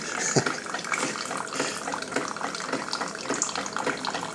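A steady stream of water pours and splashes continuously at close range from a Keurig 2.0 coffee maker, with a broad hissing rush and small bubbling variations.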